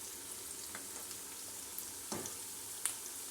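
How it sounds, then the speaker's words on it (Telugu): Ginger garlic paste frying in oil, a faint steady sizzle with a couple of soft utensil taps, close and quiet. "1 నిమిషం ఫ్రై చేసుకుందామండి."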